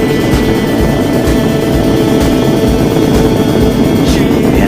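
The three main engines of Space Shuttle Atlantis thunder during launch, a dense, continuous roar with rhythmic pulsing low rumble, loud and unbroken throughout.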